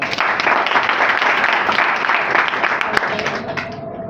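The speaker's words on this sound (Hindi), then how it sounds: "तालियां बजाइए।" Participants at an interactive mental health session in Islamabad clap together, a loud, close burst of many hands that continues steadily and fades slightly toward the end.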